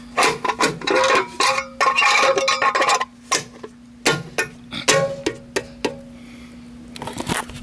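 A loose lug nut rattles and scrapes inside a truck hubcap as the wheel turns, making loud, irregular metallic clatters in bursts, then short separate knocks, with a steady engine hum underneath.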